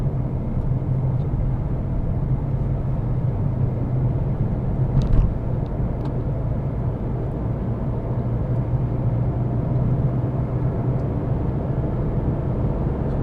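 A Renault Kiger petrol SUV with a 71-horsepower engine drones steadily from inside the cabin as it strains to gain speed, a continuous low rumble with road noise and no talking.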